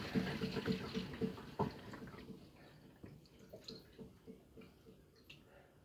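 Water being poured, with splashing and gurgling bursts at first that thin into lighter trickles and drips, close by and fairly quiet.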